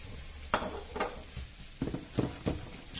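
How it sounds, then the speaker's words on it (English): Pepper, garlic and onion fry in hot oil for a chicken neck stew, a quiet sizzle broken by several sharp scraping stirs in an uneven rhythm. "once the oil is hot, I'll add the pepper, garlic and onion and gently soften it all up"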